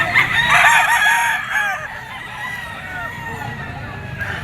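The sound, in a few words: white Kelso Firebird stag rooster crowing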